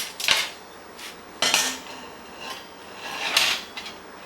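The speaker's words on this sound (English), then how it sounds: "Turn it upside down and then you just shake it a bit" A metal loaf pan of chocolate chip banana bread, turned upside down, rattles and clanks in several sharp bursts as it is shaken, with short pauses between the knocks.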